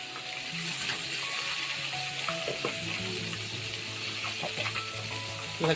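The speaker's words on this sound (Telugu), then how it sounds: "నూనె పైన తులుతుంటుంది చూసుకొని కొంచెం జాగ్రత్తగా వేపుకోండి ఇలా" Chicken legs frying in hot oil fill the clip with a dense, even sizzle and crackle that runs throughout, close and moderately loud, with a few scattered pops and no voices.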